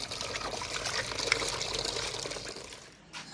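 Water is poured while a jug and glasses are washed, making a continuous splashing pour close by that fades near the end.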